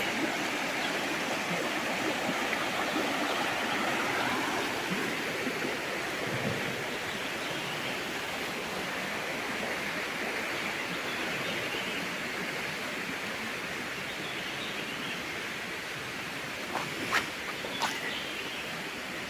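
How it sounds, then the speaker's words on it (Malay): Jerneh river at Camp Atin Campsite in Ternaboi, Jelebu, Negeri Sembilan flowing steadily, a constant broad rush of water that stays even and fairly close, with a couple of brief clicks near the end. "Ni sungai Jerneh di Camp Atin Campsite, Ternaboi, Jelebu, Negeri Sembilan."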